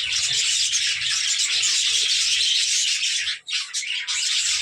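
Budgerigars squabbling over nest pots in a breeding aviary, a dense, continuous chorus of bright chirps and chatter with scattered squawks, close and steady, briefly dipping near the end.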